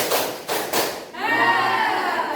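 A class of students in a school classroom claps together in a rhythmic pattern: a few loud, unified hand claps in quick succession, then a voice speaks.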